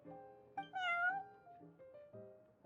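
A cat meows in a video game, one long drawn-out mewing cry rising and falling, with a few shorter softer mews around it, clear and close with no talking.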